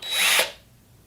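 A power drill spins a Forstner bit into wood while building a woodworking assembly table, giving one short, loud whine that cuts off abruptly after about half a second.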